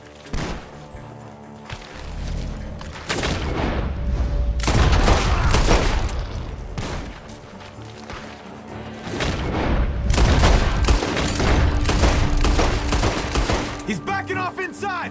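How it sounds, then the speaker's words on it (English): Video game gunfire in Red Dead Redemption 2 comes in bursts of rapid shots and booming blasts, with rattling volleys and echoing cracks over game music and ambience, separated by quieter gaps. "Gunshots are coming!"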